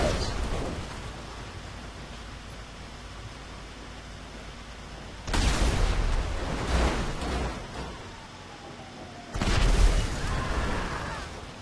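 Explosions in a Spider-Man and Lightning McQueen car video game: two loud booming blasts, each swelling into a rumbling roar that lingers and fades, over a steady noisy background.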